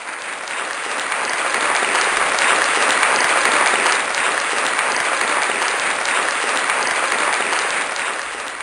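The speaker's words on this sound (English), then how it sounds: "Let's have another round of applause for Eleanor Brown." An audience gives sustained applause at the close of a stand-up comedian's set in a radio comedy production, a dense wash of clapping that swells, holds steady and eases off slightly toward the end.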